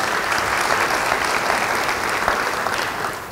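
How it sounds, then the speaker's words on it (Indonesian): A church congregation applauds during a sermon, loud, dense clapping from many people that holds steady and tapers slightly at the end. "Yang percaya beri tepuk tangan bagi dia."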